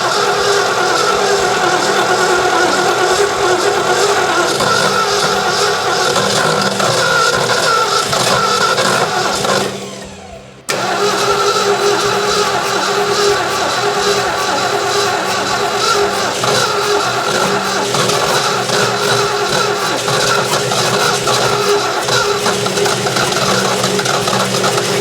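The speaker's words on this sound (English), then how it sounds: "Fire up for me, fastback, for real this time, please." A 1966 Mustang GT fastback engine cranks and runs loud and steady close by, cutting out abruptly for a moment before catching again and carrying on with a rough, continuous rumble.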